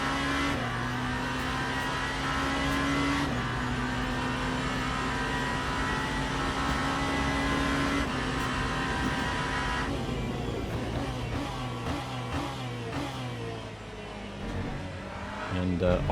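A Genesis GMR-001 race car in Le Mans Ultimate, racing at Monza, sends out a loud, sustained engine whine that climbs and drops through gear changes, with tire noise and someone talking over it.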